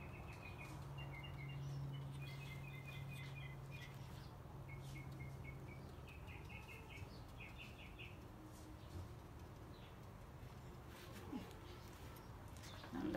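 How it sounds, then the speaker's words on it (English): Faint birds chirp and call intermittently outdoors over a soft background hum, with brief bursts of tweeting. "You can hear the bird's voice."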